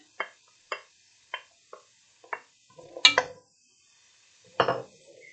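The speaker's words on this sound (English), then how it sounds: "I'm going to add those into my stock pot. And stir them real good." A spoon strikes a stock pot while diced vegetables are stirred, giving five sharp evenly spaced clinks followed by a few louder scraping knocks, close and with no talk.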